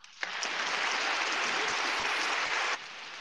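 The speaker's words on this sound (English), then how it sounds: "Everybody give them a round of applause." A dense, steady round of applause from a crowd, loud and continuous for about two and a half seconds before cutting off abruptly.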